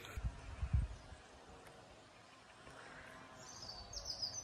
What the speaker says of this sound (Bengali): শুধু পাখির কিচিরমিচির